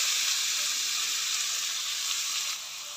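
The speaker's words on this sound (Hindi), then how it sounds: "अब हम इसको इतना भूनेंगे कि जो मूलियों में हल्का सा जो पानी है ये भी ख़त्म हो जाए" Mashed radish (mooli) sizzles and fries steadily in a pan for mooli bhujia, a loud continuous close-up hiss that softens slightly near the end, with no talking.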